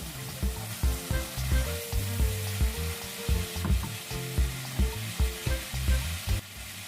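String beans hit a hot frying pan and sizzle steadily, with rhythmic stirring and scraping knocks of a utensil against the pan throughout.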